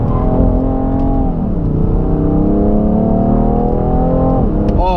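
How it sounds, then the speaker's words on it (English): A 2017 BMW M3 with a 3-liter twin-turbo inline-six accelerating hard, a loud continuous engine drone climbing in pitch with a brief dip, heard from close by with no talking. "Oh, when those turbos kick in on that 3-liter twin turbo inline 6, this thing pulls hard."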